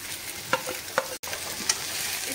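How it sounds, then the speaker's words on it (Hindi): Cubed onions and capsicum frying in oil in a pan, a steady close sizzle with a few soft stirring clicks. "हम इनको भी शिमला मिर्च के साथ फ्राई करेंगे।"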